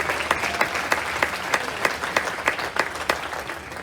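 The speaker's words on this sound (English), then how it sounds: "Please, a big round of applause with" A cruise ship audience applauds for a top cruiser at an onboard awards event, with a steady crowd clapping and rhythmic sharper claps standing out every third of a second.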